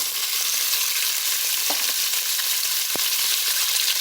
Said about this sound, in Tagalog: Now, guys, I will add the oil. And I will put the onion and garlic.